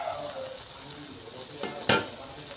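Taro stem curry cooking in a wok, with a low steady sizzle under a couple of brief scraping stirs near the end, close and fairly quiet.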